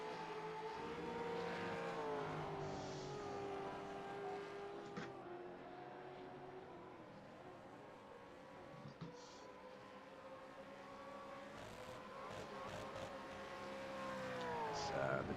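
Gen3 V8 Supercars in a sim racing game, engines droning steadily with rising and falling pitch as the cars race, a continuous loud roar with faint commentary underneath.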